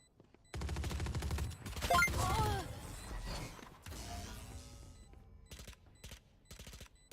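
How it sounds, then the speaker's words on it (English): A swarm grenade in Valorant goes off in a burst of rapid mechanical clicks and crackling pops, loud and dense for a few seconds, then trailing into sparse sharp ticks. "Swarm grenade out"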